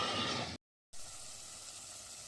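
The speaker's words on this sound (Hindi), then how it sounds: "चिकन जो है तेल छोड़ रहा है" Chicken pieces fry in oil in a pan with a dense, steady sizzle close by, briefly cut to silence before the crackling resumes a little quieter.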